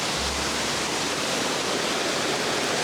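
Waterfall on a hiking trail roaring as a steady, loud broadband rush of falling water, close to the microphone and nearly saturating it, with no voices over it.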